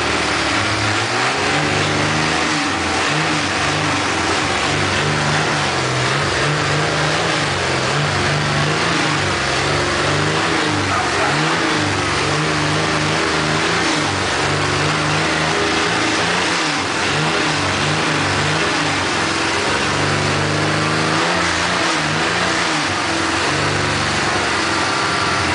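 A Chevrolet Opala's engine revs hard and continuously, loud and close, its rough mechanical roar rising and falling without a break and no voices over it.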